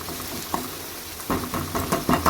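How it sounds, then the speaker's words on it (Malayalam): Onions fry on a low flame for sambar, with a soft steady sizzle and occasional scraping stirs that grow louder and more frequent in the second half, and no talking. "ചെറുതീലാണ് മൂപ്പിക്കുന്നത് അല്ലെങ്കിൽ ഉള്ളി പെട്ടെന്ന് അങ്ങ് കരിഞ്ഞു പോകും"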